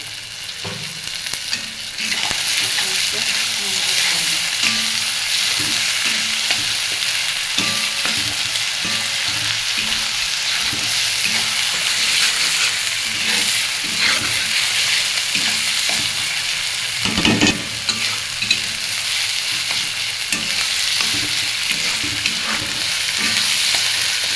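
Chicken frying in a pan with onion, ginger and garlic paste, giving a steady loud sizzle with occasional stirring scrapes throughout.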